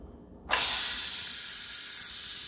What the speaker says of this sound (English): the pressure cooker